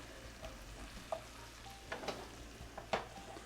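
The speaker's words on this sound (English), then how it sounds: "I'm going to start to incorporate my mushrooms and garlic, onion, and just let everything cook" Mushrooms, garlic and onion cook together in a pan, giving a faint, steady sizzle broken by a few sharp utensil clicks and scrapes.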